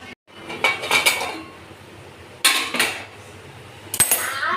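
Metal pot lid clattering onto a cooking pot, a couple of bright ringing clanks close by, then a quiet pause and another sharp metallic clink near the end.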